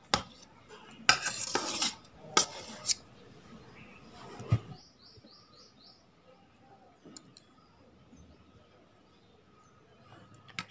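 Cut fruit pieces such as cucumber and grapes drop one by one into a bowl for a fruit salad. A few loud clatters and knocks come early, then quieter scattered taps, with faint chirps in the background.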